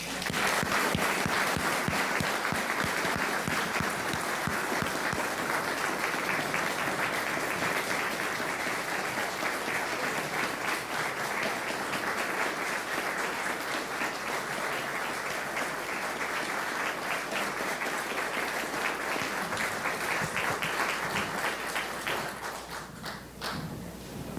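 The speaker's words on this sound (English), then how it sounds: "we should have one more round of applause for our veterans" An audience gives veterans a long round of applause at a local museum honouring ceremony, steady thick clapping with sharp individual claps and thumps, continuing for over twenty seconds before thinning out at the end.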